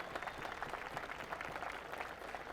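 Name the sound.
audience applause for Kevin Quinn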